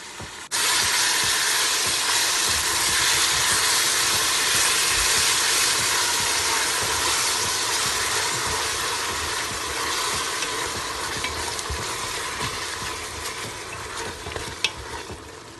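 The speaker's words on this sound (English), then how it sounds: "The good sizzle. Do you hear that sound? That's the good sizzle." Steady, loud sizzling and frying hiss from chicken in a hot pot on the stove, continuous throughout with faint stirring and crackling, no voices.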